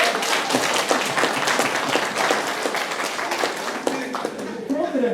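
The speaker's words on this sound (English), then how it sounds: "now you are clapping because of women power" An audience at a workshop claps steadily, many hands in a dense, fairly close patter that fades slightly toward the end as a voice begins to talk.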